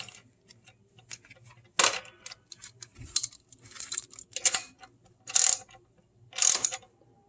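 A ratchet tightens a new 10mm nut on the alternator harness of a 1999-2001 Mustang Cobra 4.6L V8, giving short bursts of close metallic clicking separated by quiet gaps.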